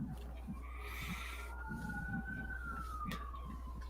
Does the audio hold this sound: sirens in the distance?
yes